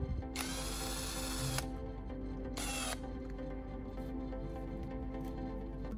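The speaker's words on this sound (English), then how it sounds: "I turn on the drill and press the tip against sandpaper to sharpen it." A power drill spins the core of a broken LED bulb against sandpaper, giving two high whirring bursts, a longer one and then a shorter one, over a steady low background hum.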